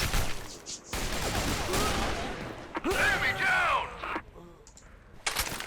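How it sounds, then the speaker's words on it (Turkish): Gunfire from the video game Phantomers Online sounds in loud bursts and volleys of shots, with a voice talking over parts of the fight. "Çatışma sesi var."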